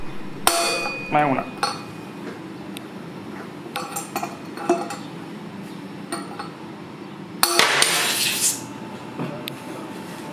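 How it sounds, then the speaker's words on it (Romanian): A hammer drives a metal rod to knock wheel bearings out of a Honda TransAlp 650 motorcycle, giving sharp metallic clanks at irregular intervals and a louder ringing strike near the end, with brief speech. "apelăm la tradiționalul ciocan și cu o tijă"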